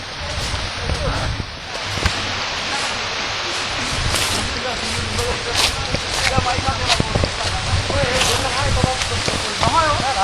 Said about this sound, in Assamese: পানী মাত শুনিছে চাগে